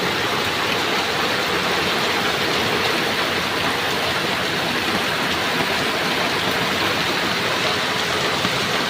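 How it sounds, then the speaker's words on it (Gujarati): Heavy monsoon rain pours down steadily in a flooded town, a dense unbroken hiss with no pauses from start to finish. "ચારે બાજુ ખૂબ જ વરસાદ જોરદાર વરસાદ"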